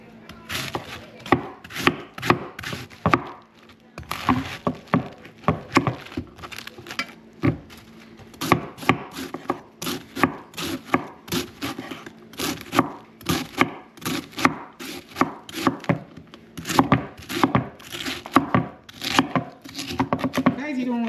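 A knife chops cabbage on a board in quick, uneven bursts of sharp close thuds, with short pauses between runs, while someone talks intermittently over the cutting.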